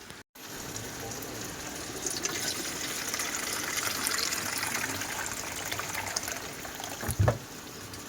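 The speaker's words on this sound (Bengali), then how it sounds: "জোরে জল পড়ছে?" Water gushing strongly from a household tap, a steady, close rushing stream that runs unbroken after a brief cut at the start, with a short bump near the end.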